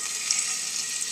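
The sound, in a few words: oil sizzling in pan on electric stovetop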